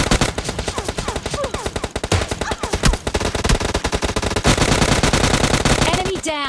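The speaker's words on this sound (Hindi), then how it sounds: "मेरा बंदा पता नहीं कहाँ ही कार 98 से मार रहा होता है" Dense, rapid gunfire fills a PUBG Mobile Lite duo battle, with Kar98 rifle shots among close, loud, tightly packed bursts that run almost without pause from start to finish.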